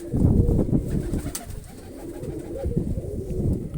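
Pigeons being released coo in soft, low throaty bursts close by, with rustling and a sharp flutter of wings midway, the calls rising and fading in uneven waves.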